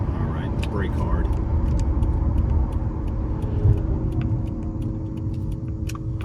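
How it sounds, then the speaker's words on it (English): A 2002 Mercedes-Benz SL500 on the road with a steady engine and tire rumble and light ticking while braking hard, with no brake squeal, under a person talking. "I'm going to brake it pretty hard here as long as there's nobody behind me"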